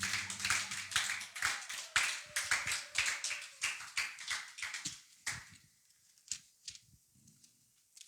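A congregation at a church service claps hands together in a dense, rhythmic burst that keeps going for several seconds. Near the end it thins out into a few scattered claps and taps.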